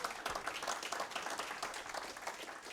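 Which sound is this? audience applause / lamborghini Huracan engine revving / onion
audience applause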